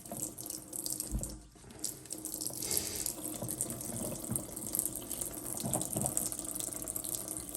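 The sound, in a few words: rinsing Miele washing machine part under running water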